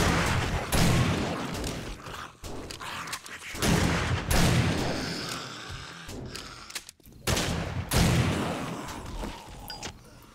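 Shotgun blasts boom repeatedly during horde night in the survival game 7 Days To Die, with several loud, close shots and reverberant tails in between.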